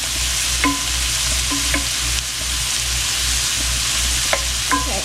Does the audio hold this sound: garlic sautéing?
yes